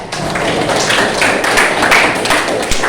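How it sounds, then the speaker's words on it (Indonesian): A classroom of students applauds a classmate, with dense, steady clapping that fills the room from start to finish. "beri tepuk tangan dulu untuk Oksel"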